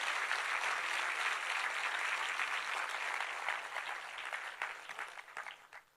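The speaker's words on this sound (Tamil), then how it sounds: "ஒரு பெரிய கரகோஷத்தோடு நீங்கள் வரவேற்கணும்" A crowd applauds steadily, a dense wash of clapping that thins toward the end as individual claps become distinct.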